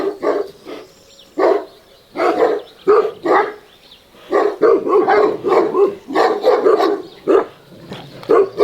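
Dogs barking at a fire in bursts, several overlapping yaps and woofs close by, with short pauses between flurries.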